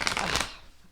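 A deck of tarot-style cards being shuffled by hand, a short burst of papery riffling that fades out after about half a second, close and fairly quiet, with no talking.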